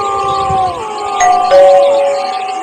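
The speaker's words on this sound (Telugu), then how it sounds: "కాలింగ్ బెల్ ఇంత రాత్రి ఎవరు కొడతాను" A two-tone doorbell chimes a few times in quick succession late at night, clear and loud, with a faint tonal wail lingering underneath.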